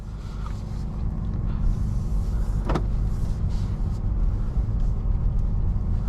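A 2023 Honda Accord getting under way on a test drive, its cabin steady with low engine and road rumble, a brief mechanical whir partway through and no talking.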